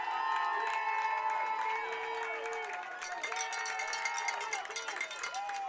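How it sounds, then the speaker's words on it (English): Whitehall high school football fans cheer and shout from the stands at a night home game against Montague, a steady crowd roar with scattered whistles and yells that grows busier toward the end. "They're all kind of cheering, I think, for one guy"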